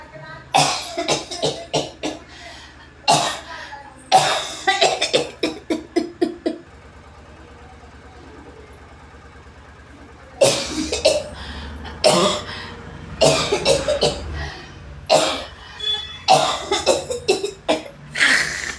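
A person coughs hard in rapid repeated bursts, with a quiet pause midway before another run of loud, close coughing fits.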